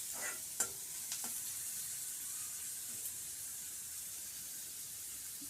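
Onions frying in oil in a pan on a stove over high flame, a constant close sizzle and hiss with a few sharp stirring scrapes near the start.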